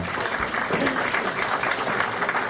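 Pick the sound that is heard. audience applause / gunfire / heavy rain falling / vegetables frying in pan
audience applause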